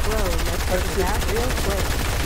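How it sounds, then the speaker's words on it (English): Rapid gunfire crackles nonstop in a Fortnite creative pro tournament match, dense and loud, while a player talks excitedly over it. "Shooting him out like crazy, bro."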